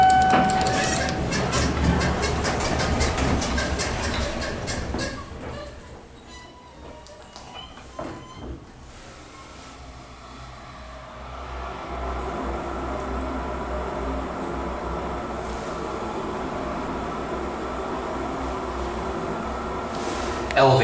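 An Otis hydraulic elevator motor runs at Suburban Station, a continuous low hum and mechanical drone with clattering and fluctuating noise, dipping quieter midway before steadying again.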